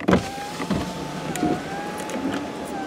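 Electric windows of a 2010 Ford Focus Titanium Mk2 facelift hatchback whirring as they run, a steady motor hum with a clunk at the start and soft bumps along the way, heard close inside the cabin.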